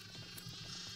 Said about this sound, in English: I'm shearing sheep.